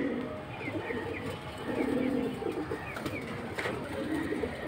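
Domestic pigeons, including male birds offered at a market sale, coo in soft, repeated throaty phrases, steady and fairly close against a busy background murmur.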